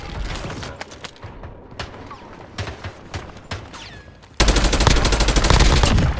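Rapid bursts of automatic gunfire in a video game combat match, sharp repeated cracks that grow into a loud, dense sustained volley near the end, with no talking.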